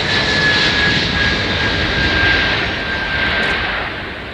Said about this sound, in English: The takeoff was almost anticlimactic. It was performed with such apparent ease.